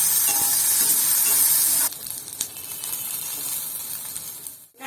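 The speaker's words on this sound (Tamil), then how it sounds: "நல்லா வதங்கட்டும் வெங்காயம், பச்சை மிளகாய்." Onions and green chilies sauté in a pan for spinach poriyal, a bright continuous sizzle up close that drops in intensity partway through, with a stir or two, fading out at the end.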